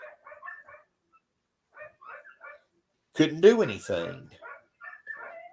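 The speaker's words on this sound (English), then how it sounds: "My kids got home from school, so the dogs were barking at the bus." Dogs bark at a school bus in one short, loud burst of yelps and whines that stands out between stretches of a man's speech.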